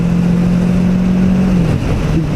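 Kawasaki Z650 motorcycle engine holding a steady, loud mid-range drone close by, its pitch dropping slightly near the end as the revs ease off.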